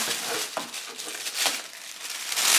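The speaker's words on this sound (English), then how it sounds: "Does anyone else love the noise of the tissue paper?" Close, crisp crinkling and rustling of tissue paper being unwrapped from a luxury Fauré Le Page bag, continuous with a few sharper crackles and no talking.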